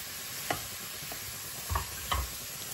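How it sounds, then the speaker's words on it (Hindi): Broccoli stirred and roasted in oil in a pan, a soft continuous sizzle with three distinct spatula scrapes and thumps spaced over a few seconds, close and fairly quiet. "ऑयल डालेंगे और इस ब्रोकली को इसे थोड़ी देर के लिए रोस्ट करेंगे"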